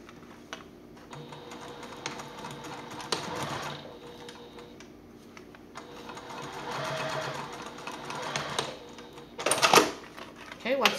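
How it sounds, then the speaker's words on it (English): Sewing machine running a 1/4-inch seam along a short raw edge of a fabric fold-n-go wallet, its motor whirring in several bursts of varying length with short pauses between, close and moderately loud. "We're going to match those up and sew along this short raw edge at 1/4 of an inch seam allowance right"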